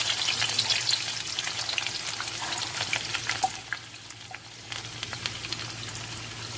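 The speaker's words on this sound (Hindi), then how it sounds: "तो अब मैंने ऑयल ऊपर रखा हुआ है गर्म होने के लिए, उसके अंदर सबसे पहले प्याज डालेंगे।" Chopped onion sizzles steadily in hot oil in a home kitchen pan, a dense continuous frying hiss that starts loud and eases slightly partway through, with no talking.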